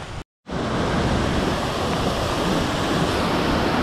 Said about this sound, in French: qui va longer cette espèce de torrent cascade.